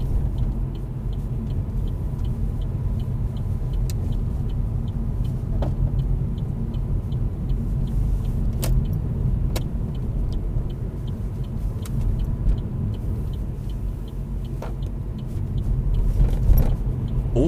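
A car on a road during a driving test gives a steady, moderately loud low rumble of engine and tyres from inside the cabin for the whole stretch, broken by a few faint clicks and light rattles.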